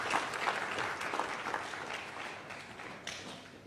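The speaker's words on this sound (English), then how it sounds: "we will clap for all the contestants" A gathering at a gubernatorial primary election applauds the contestants, a crowd's dense, sustained clapping heard close and fairly soft, easing slightly toward the end.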